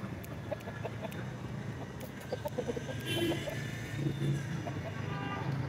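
An Aseel fighting rooster of the Mianwali or Kashmeri line clucks in short, scattered calls, fairly faint over steady outdoor background noise.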